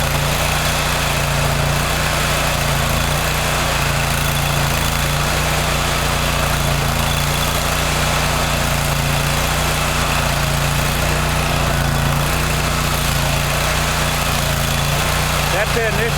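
A 31 HP hot water pressure washer rated 3500 PSI at 9 GPM, with its burner on, runs steadily after startup with a loud, constant engine drone and vibrating hum, and someone speaks over it.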